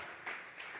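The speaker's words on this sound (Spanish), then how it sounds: "Vamos a regalarle ofrenda de palmas al Dios de la gloria" Church congregation applauding, a brief wash of steady clapping heard from a distance, soft and continuous without individual claps standing out.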